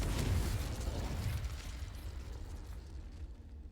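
A Confringo blast from a spell in the video game Hogwarts Legacy: a loud, booming burst that slowly decays into a rumbling tail over a few seconds.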